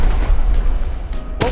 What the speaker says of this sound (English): Set off my fireworks!